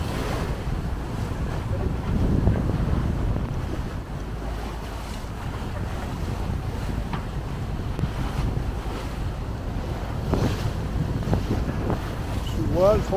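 A sailboat under sail on open sea between Thailand and the Philippines, with steady wind rush, hull swish and wave wash continuing throughout, close to the microphone with constant buffeting.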